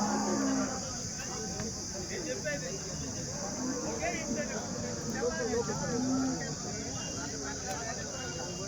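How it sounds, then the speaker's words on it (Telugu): Cows at the weekly Punganur cattle market give several low moos over a steady crowded outdoor din, with people talking throughout. "ఇవన్నీ క్వాలిటీ ఆవులు"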